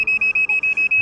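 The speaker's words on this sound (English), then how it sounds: "when you slow down, it freaking beeps." An electric unicycle gives a rapid, steady series of high, shrill beeps, about eight in one second, loud and close, as the rider slows down.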